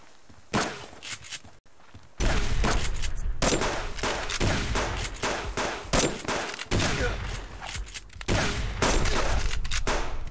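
Rifle shots ring out in the survival game Subsistence, a lever-action rifle fired in loud, sharp bursts repeated over several seconds, close and dominant with short gaps between volleys.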